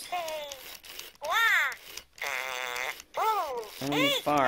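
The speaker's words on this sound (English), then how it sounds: "Only farts." A twenty-year-old Furby toy sputters out a series of electronic, warbling fart-like noises in short bursts separated by brief silences, close and fairly loud.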